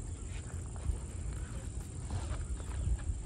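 Several horses move together into a rural horse yard, their hooves clopping faintly and irregularly beneath a steady low outdoor rumble, with no clear talk.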